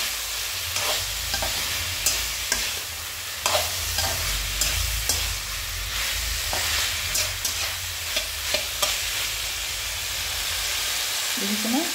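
Food frying in a pan is stirred with a spatula, sending repeated scraping and clattering strokes over a loud, steady sizzle. The stirring comes in irregular bursts close up, with no voices.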